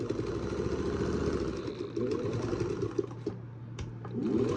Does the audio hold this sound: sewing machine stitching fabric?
yes